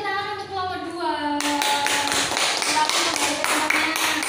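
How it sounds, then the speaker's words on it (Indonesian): Classroom applause for a student group during a first-grade lesson, with dense clapping that starts abruptly after a brief moment of children's voices and continues steadily to the end. "Beri tepuk tangan untuk kelompok 2."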